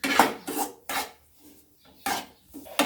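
Semolina (rava) dry-roasting in a pan for a Gujarati sweet shiro, stirred in a run of close, rhythmic gritty scrapes, each lasting a fraction of a second, with one brief pause in the middle.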